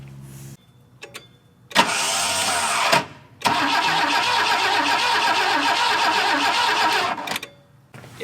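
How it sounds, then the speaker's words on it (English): A 1969 Volvo 164 engine cranks on the key after sitting for years, with brief clicks and then two bursts of loud, close, rhythmic starter churning, the second running several seconds before stopping. "So I think now if I turn the key with the battery connected, it should crank."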